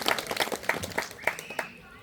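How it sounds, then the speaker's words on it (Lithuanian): An audience at a school arts festival for award laureates gives a short burst of rhythmic clapping, with distinct claps in a quick, regular beat that fade at the end. "Tad plojimai garsiai gal išgirs mus kur nors Vilniaus gimnazijai"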